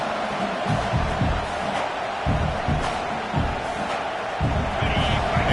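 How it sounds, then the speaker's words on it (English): A college football stadium crowd roars steadily during a red zone defensive stand in an Auburn versus LSU game, a dense sustained wall of noise with rhythmic thumps and chanting underneath. "This crowd is trying to inspire this defense to make a big red zone stop."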